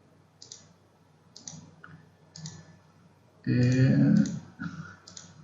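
Sharp mouse clicks in Autodesk Maya 2019, several spaced single clicks at a steady pace, close and crisp, with a brief louder burst of background noise partway through; no speech.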